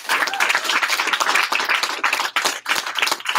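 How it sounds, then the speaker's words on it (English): A room of people claps loudly and briskly at a meeting, the applause dense and close, with a few brief dips as it carries on. "let's give him a round of applause"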